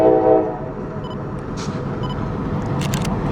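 CSX freight train with SD40 locomotives passing nearby, a loud steady rumble of rolling cars and engine noise with a brief horn-like tone at the start.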